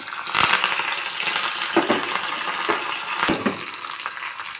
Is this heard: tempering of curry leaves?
yes